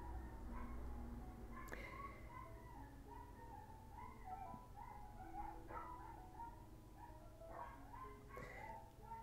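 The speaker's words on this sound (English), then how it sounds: "Sorry about the noisy dogs." Neighbouring dogs bark and yip off in the distance, faint and intermittent over a steady low background hum, with no one speaking.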